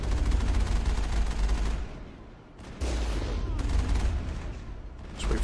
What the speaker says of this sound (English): We'd probably just be better off with the machine gun here.